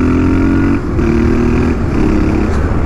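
A Royal Enfield Interceptor or Continental GT motorcycle engine idles and runs steadily up close, a continuous loud rumble with a slight shift in pitch partway through.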